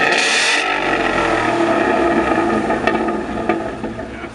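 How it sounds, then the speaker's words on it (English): A noisy, non-stock modified car revs loudly and steadily at a snowy winter car meet, its engine note filling the scene with constant, close, roaring throb. "That's a noisy car."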